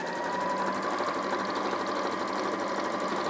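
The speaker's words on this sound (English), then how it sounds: "all I'm doing is I'm sewing 1/4 inch along the side of my half square triangle and my two rectangular pieces there" A sewing machine runs steadily, sewing a quarter-inch seam along half-square-triangle and rectangular quilt pieces. The motor gives a close, even, continuous whir with a fast mechanical chatter, and no one speaks.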